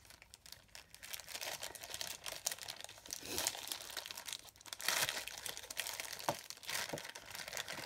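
A plastic bag is handled and sealed up, producing continuous close crinkling and rustling with sharper crackles throughout, fairly soft and with no voices.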